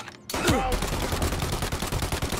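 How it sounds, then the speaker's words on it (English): A Tommy gun in Mafia Definitive Edition fires a rapid sustained burst after a brief quiet start, dense chattering automatic shots, loud and close. "This one's Tommy gun."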